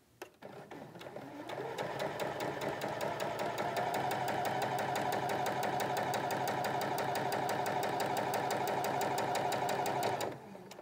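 A sewing machine runs steadily for about nine seconds, stitching layered fabric pieces right sides together for a quilted arrow block, with a fast, even mechanical chatter and no talking.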